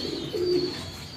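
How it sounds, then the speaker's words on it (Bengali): A racing pigeon at a fancy pigeon farm gives a single soft, low coo up close, set against a steady background hum with no talking. "এটা একটা রেসার কবুতর"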